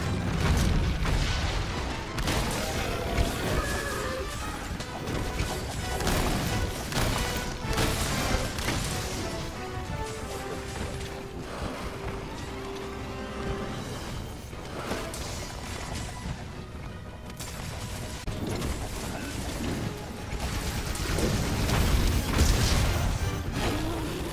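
Cluster bomb explosions in a video game, a dense run of repeated booms and crashing blasts through the whole stretch, loud and close, with a few scattered impacts between the heavier bursts.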